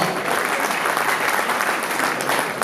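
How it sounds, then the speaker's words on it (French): A crowd claps loudly and continuously at a live show, dense applause with a few cheers mixed in, filling the space without pause. "faites du bruit pour les artistes ce soir"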